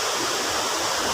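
Maeya Waterfall in Chiang Mai, Thailand, pours in a steady, loud, unbroken rush of falling water, dense and hissing throughout with no voices.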